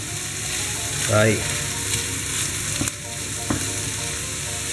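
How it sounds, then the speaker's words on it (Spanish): Boletus mushrooms sautéing with meat and onion in a pan give a steady sizzle throughout, with brief stirring scrapes and a short spoken word partway through. "y ahora los vamos a rehogar junto con la carne y la cebolla"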